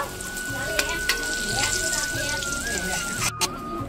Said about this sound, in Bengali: এবার আমি আলুটা ভালো করে ভেজে নেবো